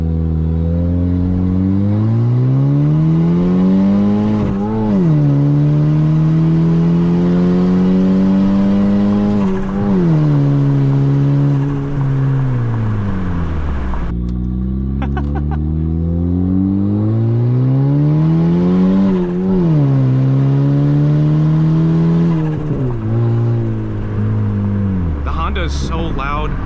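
A turbocharged Honda Civic engine revs repeatedly in long rising and falling sweeps, loud and close with a steady roar and whir, with a brief clatter near the end.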